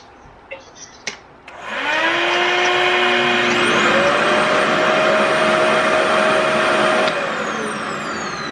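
A few light clicks and handling knocks, then a RevAir vacuum-style hair dryer whirs up to a loud, steady high-pitched whine that holds for several seconds before slightly easing.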